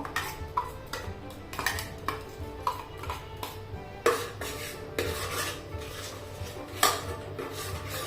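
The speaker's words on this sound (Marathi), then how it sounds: "आता आपण याच्यामध्ये टमाटर आणि जे आपण वटाणे घालून केलेली ग्रेव्ही ती घालतोय" A spoon scrapes and clinks against a cooking pan as tomato and pea gravy goes in, with a string of sharp metallic taps and stirring rubs at an uneven rhythm, close and fairly quiet.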